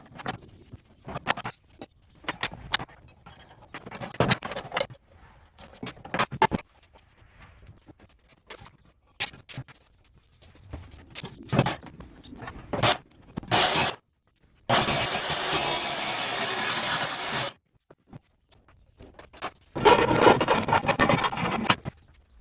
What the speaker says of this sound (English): then we'll take it over to the saw and I'll cut it